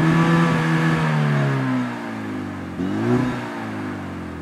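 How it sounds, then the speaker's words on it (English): A 2013 Hyundai Genesis Coupe 2.0T accelerating hard, its engine note loud and close, climbing steadily, then easing briefly and surging again as it pulls away. "you never expect it until you take it out and you gun it"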